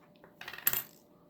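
Coins drop one after another onto a surface while building a base-5 place value model for a math lesson, giving a short close metallic clatter with a brighter clink in the middle and no talk.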